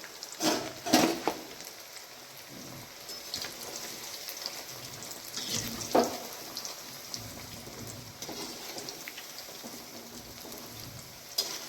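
Potatoes fry in hot oil with a steady, hissing sizzle and scattered crackles, at moderate loudness throughout and with no voices.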